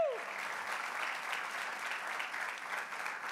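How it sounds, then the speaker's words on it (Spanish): A church congregation applauds loudly and continuously, a broad, even wash of clapping that holds steady throughout, with a brief faint tone at the very start. "Denle un aplauso bien fuerte a nuestro Dios."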